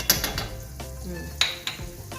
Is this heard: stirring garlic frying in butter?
yes